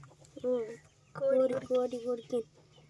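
A hen or rooster in a village clucks in several short bursts close by, with faint background noise and a low steady hum.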